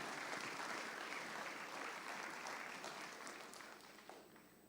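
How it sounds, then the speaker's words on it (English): Audience applause at an opening ceremony of a regional heads-of-government meeting, honoring dancers; broad, sustained clapping from a large crowd that holds steady, then slowly tapers toward the end. "I have to ask for another round of applause for the dancers,"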